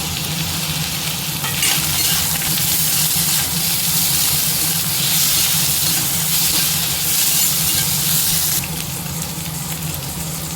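Onion and tomato sautéing in a pan, giving a loud, steady sizzle and steamy hiss with soft stirring underneath, the high hiss dipping and returning through the stretch.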